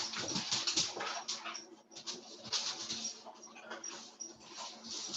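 Puppies in a puppy class game whimper and whine almost continuously, with high-pitched, excited cries that rise and fall close by. Scuffling and clattering movement is heard underneath.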